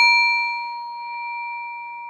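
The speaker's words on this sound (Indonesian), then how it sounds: "Dan ketika suara bel ini berbunyi" A single clear meditation bell chime strikes once and rings out, its pure tone slowly fading over two seconds in otherwise quiet surroundings.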